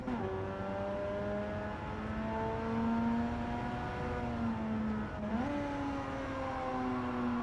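A race car engine in a racing video game revs hard and steadily, its pitch rising and dipping with a quick surge near the end, sustained and upfront with no talk.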